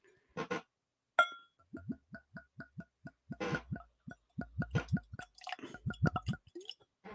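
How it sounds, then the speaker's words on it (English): Cask-strength blended malt Scotch whisky is poured into a Whiskey Encore glass, with a series of close, quiet glugging drips and liquid splashes in irregular rhythm, punctuated by a faint glass clink. "let's pour a little in the Whiskey Encore glass here today"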